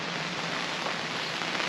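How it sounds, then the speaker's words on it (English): Steady rain patters on a truck camp awning in the woods, a dense, even hiss throughout with no voices. "as you can hear, it's raining pretty good"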